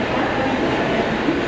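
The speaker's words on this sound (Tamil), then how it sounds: "ரொம்ப லாங்காக போகிற ட்ரெயின்" A steady, loud rumble of a long train rolling past a platform at Andheri Railway Station, Mumbai, at close range, with broadband roaring and faint rhythmic clatter throughout.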